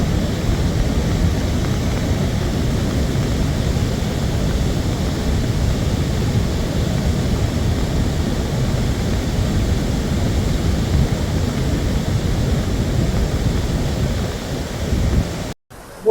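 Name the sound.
Barmukhi waterfall rushing water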